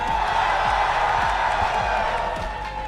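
A large Evo esports crowd keeps up a dense, steady roar of cheering and whooping, loud and close throughout with scattered claps and thumps beneath.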